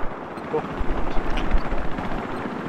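Loud, dense battle noise in the video game Battlefield 4 on the Shanghai map: a helicopter's rumble mixed with bursts of rapid gunfire and booms, continuous and chaotic throughout.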